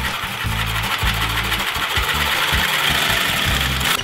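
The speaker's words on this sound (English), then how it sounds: "let me pick up my Sawzall here and get to cut in once again while also protecting my ears" Sawzall reciprocating saw chattering loudly and rapidly through a motorcycle frame, its fast choppy strokes continuous and close.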